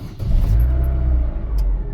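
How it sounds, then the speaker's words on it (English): A 2008 Holden Barina with an ABS pump motor fault starts up, its engine turning over into a steady, close, low idle rumble that holds for a couple of seconds. "now when we start the car"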